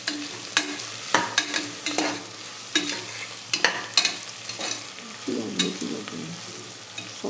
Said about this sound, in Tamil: எல்லாம் வதங்கட்டும்.